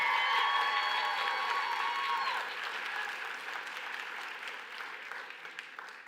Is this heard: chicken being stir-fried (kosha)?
no